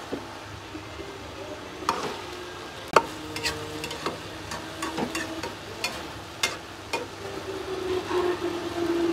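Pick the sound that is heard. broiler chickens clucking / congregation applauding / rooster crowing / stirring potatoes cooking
stirring potatoes cooking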